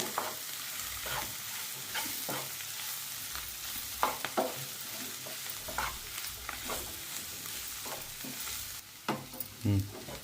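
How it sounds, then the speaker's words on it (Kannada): Boiled potato masala filling for vada pav is stirred and mixed in a pan, with repeated scraping and soft slapping strokes over a faint sizzle, close and without talk. "ಇದ್ರೊಳಗೆ ಚೆಂದಾಗಿ ಮಿಕ್ಸ್ ಮಾಡ್ಕೊಳ್ರಿ ಎಲ್ಲ ಮಸಾಲ ಕಲಿಯೋಂಗೆ"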